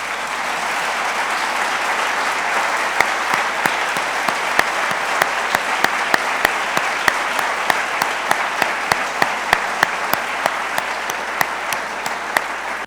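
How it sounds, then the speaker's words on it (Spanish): Loud, sustained applause from a church congregation, dense clapping with a few sharp individual claps standing out throughout, no voices. "Denle un fuerte aplauso al Señor."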